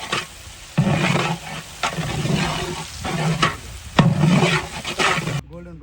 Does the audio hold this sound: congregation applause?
no